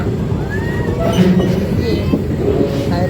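A train rolls past close by with a loud, rumbling roar and metallic squeals over the top; a voice speaks briefly under the noise.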